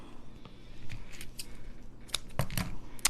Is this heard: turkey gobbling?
no